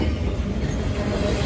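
A Norfolk Southern train rolls by up close at Winton Place, Cincinnati, a steady loud rumble of wheels on rail with broadband rushing noise throughout.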